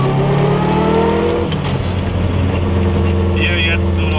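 A car engine droning loud and close as it drives and turns through snowy village roads, with a steady low hum that shifts in pitch midway.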